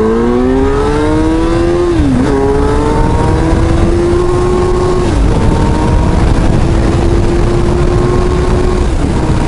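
Kawasaki Z1000SX motorcycle pulling away and accelerating hard, its engine note climbing steadily through the gears with two brief dips at the shifts, loud and close over a steady rush of wind.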